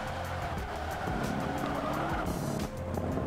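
A heavy Rolls-Royce Wraith in Forza Motorsport 5 brakes late, and its tires squeal and skid under a steady engine note. The sound is fairly quiet and continuous over about three seconds, with a short dip near the end.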